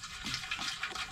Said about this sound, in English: I put it in a sprayer and I spray it on there.